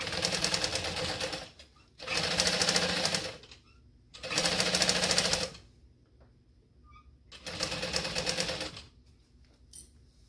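A sewing machine stitches a fanny pack seam in four loud, close bursts of rapid needle chatter, each lasting a second or two, separated by short quiet pauses as the fabric is repositioned.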